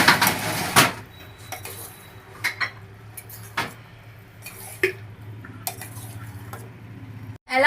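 Boondi being mixed with edible camphor in a metal vessel, a series of sharp clinks and scrapes of a spoon against the vessel at irregular intervals over a quiet background.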